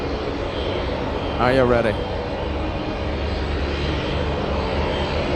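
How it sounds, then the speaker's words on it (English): A Beechcraft C-45 Expediter propeller plane at windy Anchorage airport gives a steady engine drone under wind rumble, while someone speaks briefly partway through. "It's a C-45 Expediter."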